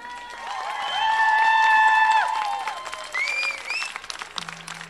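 Audience applause for a band at a live music contest, a sustained burst of clapping that swells and then fades, with whistles and cheers on top.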